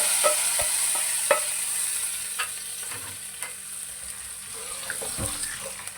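Cumin seeds tempering in hot oil in a frying pan for a pakora salan, a steady soft sizzle with scattered crackles and occasional light clinks of a utensil, close and without speech.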